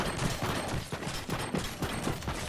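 Primal Rifle fire in Fortnite comes as a fast, even stream of rapid shots, moderately loud and close, repeating steadily for the whole stretch.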